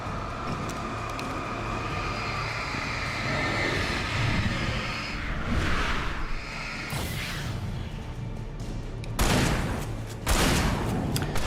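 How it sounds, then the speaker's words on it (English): Pump-action shotgun blasts in the video game Alan Wake, sharp bursts around the middle and near the end over a dense, rumbling game soundscape. "Meet my pump-action shotgun, buddy."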